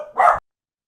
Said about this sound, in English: Oh, it's the arcade dog again.